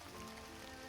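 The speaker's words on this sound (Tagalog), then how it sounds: "Umuulan na." Steady rain falls outdoors in a continuous, even hiss of drops on surfaces, faint and unbroken with no voices.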